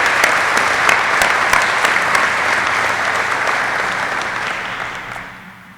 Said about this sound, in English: Let's give a round of applause to the Garrison team.